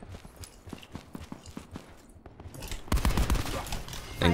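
Gunfire in the video game Black Ops 4, a run of rapid evenly spaced shots followed by a louder, denser burst of fire at the end, with some faint talk.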